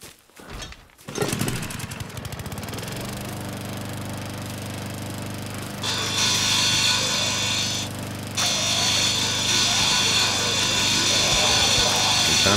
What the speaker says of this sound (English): Let me get that lawnmower.